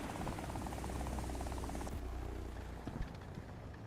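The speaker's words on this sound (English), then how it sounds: "Oh, they have an ATGM helicopter up already." An ATGM-armed helicopter in the video game War Thunder drones with a faint rotor chop amid battlefield noise, dropping away partway through to a quieter muffled background with a soft thud near the end.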